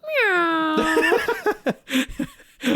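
A voice imitates a cat with a long, drawn-out meow, then breaks into a rapid string of short meows and giggles.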